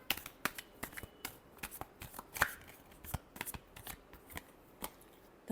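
Tarot cards being shuffled for a Capricorn reading: a quiet, steady run of crisp flicks and riffling snaps, close by and with no talking.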